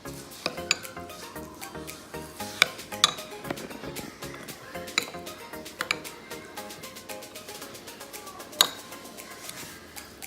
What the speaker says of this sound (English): I'm gonna be mixing it like this.